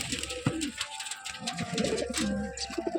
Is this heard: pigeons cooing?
yes